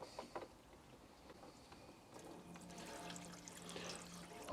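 Engine coolant gushes out after the coolant bottle cap is removed, a faint watery rush that builds and grows slightly louder and steadier toward the end.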